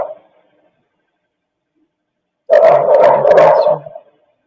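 A dog lets out a loud, close burst of rough barking lasting about a second and a half after near silence, preceded by a faint short yip at the very start.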